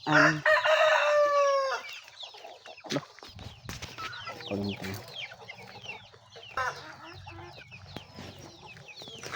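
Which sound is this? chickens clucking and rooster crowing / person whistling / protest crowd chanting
chickens clucking and rooster crowing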